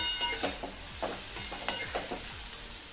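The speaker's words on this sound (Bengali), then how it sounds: "গ্যাসের ফ্লেম লো টু মিডিয়ামে রেখে 2 থেকে 3 মিনিটের জন্য এই সব কিছু একবার ভেজে নেব।" Potatoes and okra frying with spices in a pan over a low-to-medium gas flame, a close sizzle broken by rhythmic spatula scrapes and taps against the pan about every half second, no voices.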